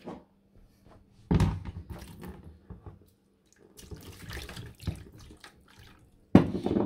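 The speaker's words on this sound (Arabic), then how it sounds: "ندير المي خلي المي هادو هكا" Water is poured into a cooking pot in a home kitchen while chicken is prepared: bursts of splashing and running water come and go between clinks and handling noises, fairly close, without speech.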